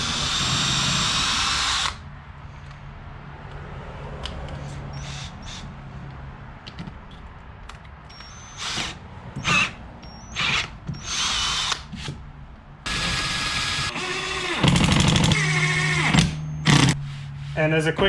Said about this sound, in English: So I can probably drill both of these without too much fear of that happening.